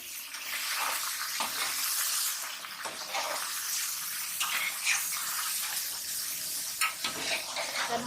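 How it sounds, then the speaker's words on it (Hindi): Chicken pieces fry in a pan for a qorma, giving a steady, close hiss of hot oil broken by clatters of stirring, with no voices over it. "मैं चिकन को अच्छी तरह से फ्राई कर लूँगी।"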